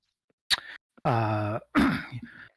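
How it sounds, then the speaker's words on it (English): A sharp cough, then a drawn-out voiced throat-clearing groan, and another rough cough, close and alone. "Had a lot of coughing to do."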